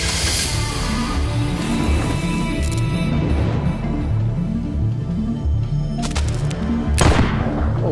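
Sharp gunshot-like blasts crack over a pounding, rhythmic cinematic music bed in a Malayalam film teaser, with a couple of loud bursts near the end.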